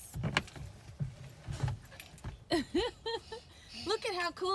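Keys jangle close by in a few bright rattling bursts near a pickup truck, followed by a toddler's high babbling and an adult talking.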